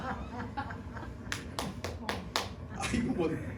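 A handful of sharp claps ring out in a short burst amid low talk and light chuckling, fairly close but quiet overall.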